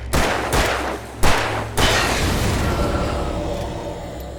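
Loud gunshots from the video game Alan Wake Remastered, four sharp blasts about half a second apart, each trailing into a long rumbling reverberant decay, with no voices.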